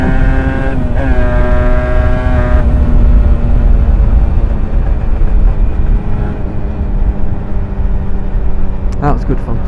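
A motorbike engine runs loud and close with a steady droning tone that shifts pitch as it rides, ending with a brief rising whine near the end.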